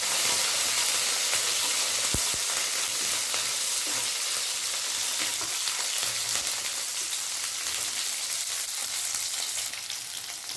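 Chopped small onions (shallots) and a sprig of curry leaves fry in a hot pan for tiffin sambar in a Coimbatore kitchen, giving a steady, close, loud sizzle with crackling spits throughout and no talking.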